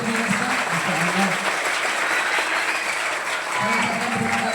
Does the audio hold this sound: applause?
yes